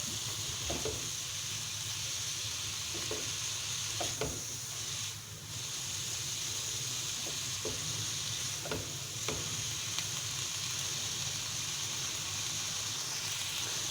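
Vegetables including carrot sautéing in a pan for chicken fried rice, a steady close sizzle and hiss with occasional light clicks of a spatula stirring, continuous and even, no voices.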